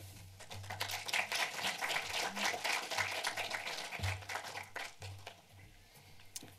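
An audience in the cinema of the Deutsches Filmmuseum claps to welcome a lecturer, a dense and sustained round of applause heard from within the room, with a voice briefly audible underneath.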